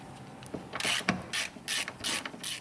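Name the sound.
ratchet removing 10 mm bolts from Ford Flex headlight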